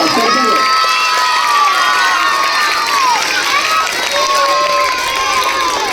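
Schoolchildren at a pre-Christmas celebration cheer and shout loudly and without a break, a dense crowd of high voices close by, with little distinct clapping.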